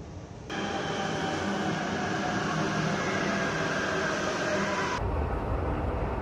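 Steady, loud rumble of a metro train running along the track, a continuous roar with rattling undertones that holds for several seconds, then eases slightly.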